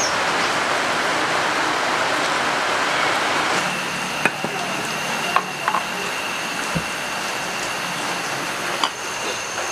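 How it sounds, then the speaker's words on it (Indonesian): Chicken feet boiling in a pot, a steady loud bubbling and hissing roar throughout, with a few faint clicks and knocks over it. "Nah ini cekernya ya, lagi direbus dulu nih biar empuk dulu."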